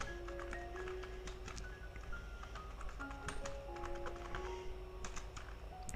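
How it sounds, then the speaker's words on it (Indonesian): Typing on a computer keyboard, pressing caps lock and entering a chart title in Microsoft Word: rapid, irregular clicking keystrokes, close and quiet, running continuously with no voices. "kita tekan caps lock di keyboard, kemudian kita ketik grafik"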